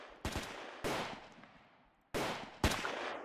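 Pistol shots from D-class units in SCP Tower Defense crack out in four sharp reports, in two pairs with long decaying tails between them, fairly loud and with no voices.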